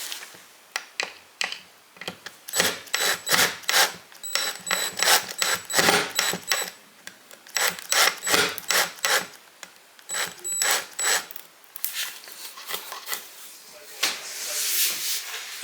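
Screws being driven into pilot holes in a one-piece wooden desktop: rapid clustered clicking and ratcheting bursts, close and crisp, with brief pauses between runs.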